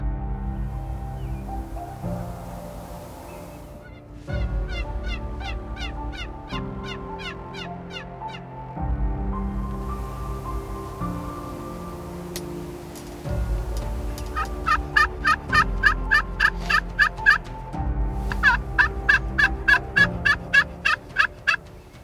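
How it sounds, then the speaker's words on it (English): Wild turkeys gobble from the roost in repeated loud, rattling bursts, several birds answering one another at close to moderate range, with the calls growing denser and more rhythmic toward the end. "these birds are gobbling on the roost"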